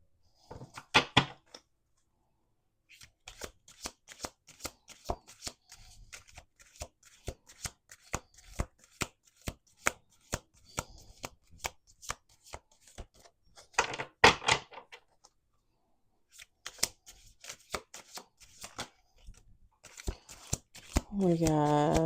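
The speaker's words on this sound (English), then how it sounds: "We're going to do 2 more shuffles." A deck of cards shuffled repeatedly by hand, with bursts of rapid riffling clicks separated by short pauses and a louder riffle near the end, close and clear, with occasional talking in between.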